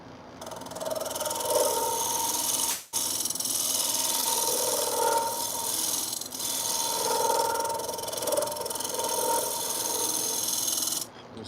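Hand tool cutting a small kerf into a wooden game call, producing continuous close rasping strokes with a rhythmic push-pull texture and a brief pause near the start.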